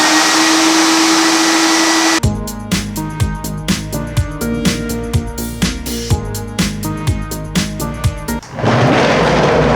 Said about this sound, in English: my inexpensive portable dust system that travels around my teeny tiny shop and comes on when I turn on my tools